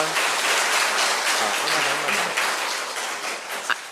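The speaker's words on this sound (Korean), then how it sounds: "그냥 박수 치고 끝낼까요?" An audience applauds at the end of a lecture, a dense wash of many hands clapping at moderate volume that holds steady for a few seconds and then thins out slightly.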